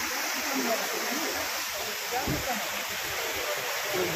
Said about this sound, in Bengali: দেখো উপর থেকে আসছে জল